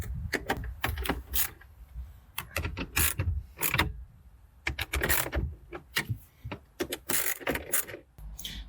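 Rapid clicking and ratcheting bursts as screws come out of the head unit in a Toyota Landcruiser 200 Series, irregular mechanical clatter in close spurts with short pauses between.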